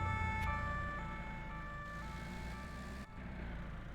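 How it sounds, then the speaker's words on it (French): A steady electronic emergency vehicle siren in a video game, flat sustained tones over a low rumble, with a brief dropout near the end, no talking. "J'ai entendu la sirène vraiment au dernier moment."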